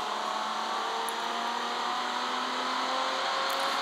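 An old taxi car's engine drones steadily while driving, with a continuous even hum of engine and road noise that neither rises nor fades, heard from inside or close by.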